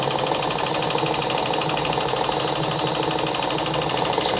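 A Meister Werke German sewing machine runs a zigzag stitch, its motor giving a steady, even whir with a fine rapid mechanical patter throughout, close and continuous.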